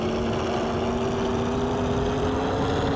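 An aircraft engine in a VR flight game roars at full throttle, a steady, loud, unbroken drone with a sustained tonal hum and no voices over it.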